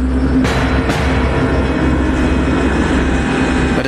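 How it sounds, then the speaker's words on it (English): A KLM jet airliner taxis on a runway with a loud, steady engine roar and a sustained whine. Two sharp bursts of noise break in near the start. "But as the KLM flight now maneuvers at the end of the runway, Captain Van Zanten is impatient"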